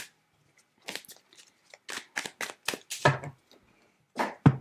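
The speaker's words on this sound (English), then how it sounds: "I'm just going to give these tarot cards a shuffle." A deck of tarot cards is shuffled by hand nearby, giving a quick series of crisp papery riffles and flicks in uneven bursts, with short pauses between them in an otherwise quiet room.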